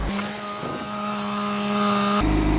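A car engine idles steadily at about 1500 RPM during an oil consumption test, a constant close hum with a steady tone, then a rougher, louder rumble near the end.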